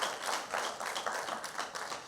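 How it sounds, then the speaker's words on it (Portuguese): A church congregation claps hands in praise, a faint, steady run of fairly even rhythmic claps lasting a couple of seconds with no clear talk. "pode louvar o Senhor com as palmas, louvado seja Deus."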